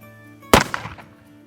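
A single loud gunshot from a Pietta 1858 Bison revolver fired one-handed outdoors, a sharp close crack followed by a brief fading echo, with no talking.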